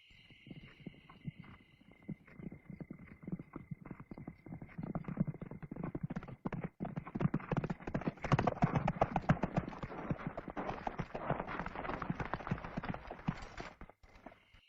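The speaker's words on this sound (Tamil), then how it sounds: "நூற்றுக்கணக்கான குதிரைகள்" Hundreds of horses approach with a dense clatter of clip-clopping hooves. It begins sparse and faint, then thickens into a continuous, busier rumble of many hoofbeats.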